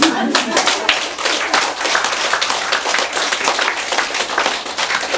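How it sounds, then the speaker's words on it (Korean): Close, loud clapping from a congregation at a Buddhist dharma talk, with many hands beating in a fast, dense, steady rhythm throughout. "박수."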